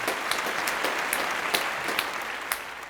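A small class applauds for a few seconds, with scattered individual claps standing out over a soft, steady patter at moderate distance.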